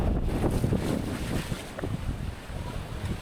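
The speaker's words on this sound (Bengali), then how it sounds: "আর এখানকার যে বাতাস, অনেক শীতল বাতাস এখানকার।" Strong, cool sea wind buffets the microphone at Guliakhali sea beach, a continuous low rumble with gusts over the surf and boats, no voices.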